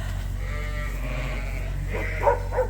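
White and black sheep penned in a lamb barn give a couple of short bleats late on, faint above a steady background hum of the barn.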